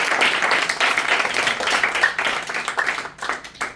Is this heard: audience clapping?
yes